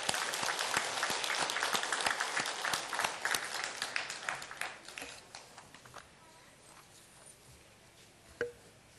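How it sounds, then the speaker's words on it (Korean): A church congregation claps in praise during a Sunday service at a Korean church, the broad applause fading over several seconds into scattered claps and a final lone clap. "주님께 영광의 박수."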